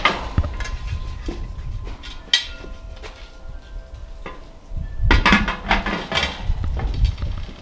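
A metal pressure canner lid is handled and set in place, giving scattered clanks, scrapes and taps of metal on metal, close by, with a louder cluster of knocks toward the end.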